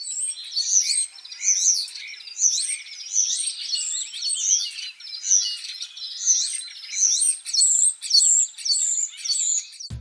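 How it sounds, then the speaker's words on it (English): Starling song fills the stretch without pause: a rapid, jumbled, energetic string of clicks, whistles, rattles and warbles, clear and fairly close, sung high on a perch or roof, with no other sounds beneath it. "Starlings have a really complex repertoire of clicks, whistles, rattles and warbles."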